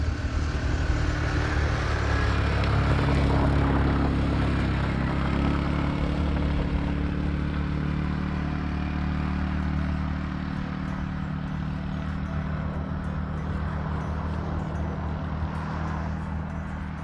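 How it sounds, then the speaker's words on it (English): An ATV rumbles past outdoors in rural West Virginia during garden digging, a steady low engine drone that slowly fades as it moves away, with no voices. "it wouldn't be West Virginia without an ATV going by."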